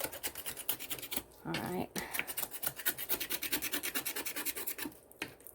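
A knife scraping meat off a turkey leg bone, giving rapid rhythmic rasping strokes close up, with a brief spoken word partway through.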